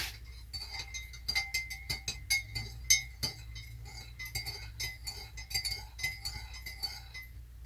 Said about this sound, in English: now what we're going to do is mix this up so that it all dissolves in there